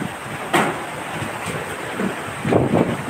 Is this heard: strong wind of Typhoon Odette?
yes